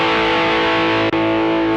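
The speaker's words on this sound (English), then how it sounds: "Just distortion." Electric guitar played through the Rat-style distortion side of a TC Electronic Nova Drive pedal, giving a loud, sustained, saturated chord that rings out with a tiny dropout near the end.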